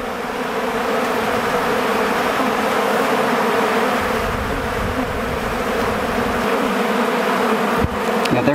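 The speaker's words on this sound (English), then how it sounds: "There's a lot of bees hanging on to the bottom." Honey bees clustered along the bottoms of hive frames during an inspection hum in a loud, close, continuous buzz that stays steady throughout, with no voices.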